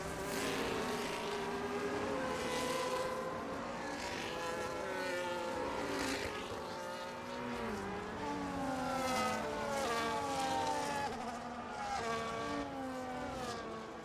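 Race cars in the F1 2025 video game run in a queue behind the safety car at the Canada round, several engine notes rising and falling in overlapping whines, steady and fairly loud throughout with no talk over them.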